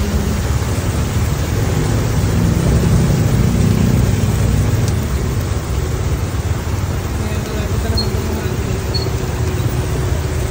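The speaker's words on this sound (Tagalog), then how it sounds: "Lakas ng ulan." Heavy rain pours down in a dense, steady roar of hiss and rumble, constant throughout with no clear voices above it.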